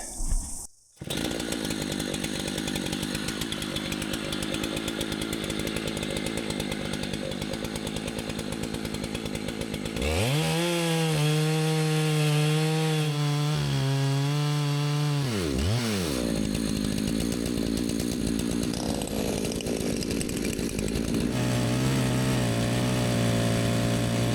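A chainsaw mill slices a slab from a log of homegrown timber, the engine roaring steadily under load for the whole stretch, shifting pitch mid-cut as the revs rise and fall before settling back into a constant loaded drone.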